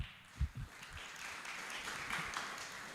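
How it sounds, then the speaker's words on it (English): An audience at a forum on policy reform and corruption claps, a soft, distant patter of hands after a couple of louder thumps near the start, continuing at a low, even level. "A round of applause to you guys."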